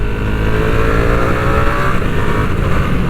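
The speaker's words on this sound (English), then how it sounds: "Glad to say, bike has a quick shifter as standard. Let's just have a little try." Ducati V2 Streetfighter motorcycle pulling hard with quick-shifter upshifts, a loud, steady engine roar close to the microphone and alone throughout.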